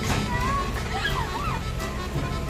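Children bathing in a village canal send up steady sloshing and splashing close by, with voices talking over the moving water.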